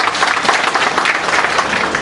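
An audience claps in a dense, steady burst of applause, loud and close throughout, with no distinct voices.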